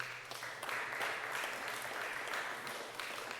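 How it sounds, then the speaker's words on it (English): A room of people claps in steady, dense applause at a property tax relief bill signing, holding an even level for a few seconds. "I'm going to ask everybody to give him a round of applause"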